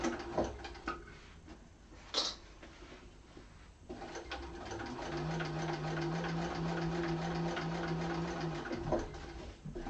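A sewing machine stitches in a steady rapid whir, close and fairly quiet, with brief handling noises first, then a short back stitch near the end.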